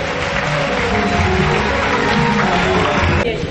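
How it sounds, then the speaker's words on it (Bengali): Audience applause at a youth festival welcome ceremony, a steady, dense wash of clapping from a crowd that holds evenly throughout, with some murmuring and speech mixed underneath. "সবাই করতালির মাধ্যমে আমাদের স্বাগত জানাবেন।"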